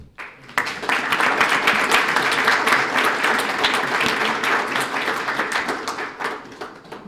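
Crowd applause at a Sarasota police swearing-in ceremony, a sustained burst of many hands clapping that swells quickly, stays full and close, then thins toward the end.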